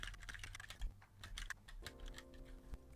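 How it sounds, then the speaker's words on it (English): Keys clatter in an irregular run of quick taps on a computer keyboard while code is written with GitHub Copilot suggestions, steady and fairly close with no voices. "sometimes it's just more efficient to start typing the solution you have in mind"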